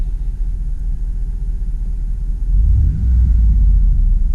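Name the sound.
2004 Dodge Dakota engine idling after driving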